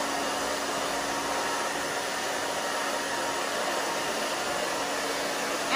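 A hair dryer blows steadily and close on a short bob haircut, a constant even whoosh of air with no pauses and no voices.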